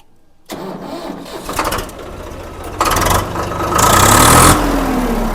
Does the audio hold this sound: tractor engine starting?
yes